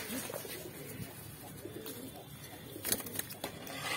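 A loft of about 23 kasni pigeons coo softly in low, throaty murmurs amid rustling and occasional wing flutters, fairly close.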